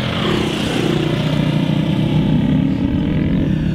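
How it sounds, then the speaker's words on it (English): Motorbikes ride on countryside trails, their engines a loud, steady, close droning rumble that carries through without a break. "There we go, a bit of passing traffic."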